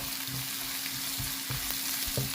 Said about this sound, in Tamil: வடகம் போட்டு நல்லா வதக்கிக்கலாம்.